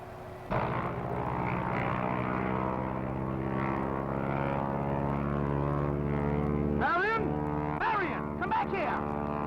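A propeller airplane engine starts abruptly and then drones steadily and loudly at close range. Its pitch wavers toward the end as a voice speaks briefly over it.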